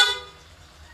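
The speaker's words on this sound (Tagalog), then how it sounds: "Ito yung tunog ng meron ng Pia Auto Horn." A Pia auto horn fitted to a Honda Click 125 scooter gives a single short, loud, bright toot that cuts off quickly, leaving faint low background rumble.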